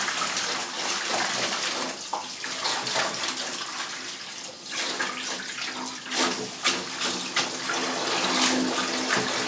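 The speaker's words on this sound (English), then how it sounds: "you must wash endive really well because it is quite a dirty plant" Tap water runs steadily while endive leaves are washed in a kitchen sink for a Greek pork and endive fricassee, a continuous close splashing rush with small shifts as the leaves are handled.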